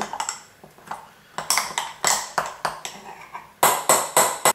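A spoon stirs sourdough starter with water and wholemeal flour in a container, making a string of sharp clinks and taps at an irregular rhythm, close and fairly loud, with no talking.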